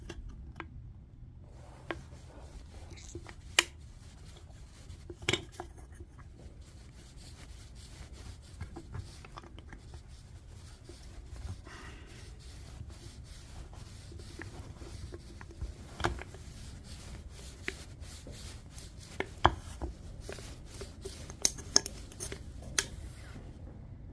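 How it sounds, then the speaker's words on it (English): Round holes punched one at a time around the rim of a small aluminum can alcohol stove: sharp isolated taps and clicks at irregular intervals over quiet rustling and handling, close by, with no talk. "Everywhere I've got a mark around the perimeter of this stove, I'm going to go ahead and make a nice round hole."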